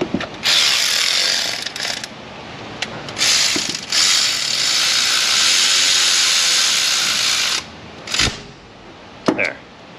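A hand ratchet spins a nut onto a bracket on a Ford F150 5.4 Triton engine, with several bursts of fast, close clicking separated by short pauses and a couple of sharp metallic taps near the end.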